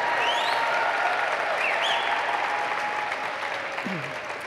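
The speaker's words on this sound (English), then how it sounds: "You can keep clapping." Sustained audience applause at a lifetime achievement award ceremony, continuous clapping from a large crowd that tapers slightly toward the end, with faint voices and whoops mixed in.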